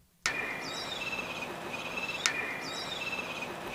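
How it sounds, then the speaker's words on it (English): Faint bird chirps repeat over a steady hiss of wind and water, starting abruptly after a moment of near silence, with one sharp click midway. "Which is a bird sound, an ambience, and some water, wind sound."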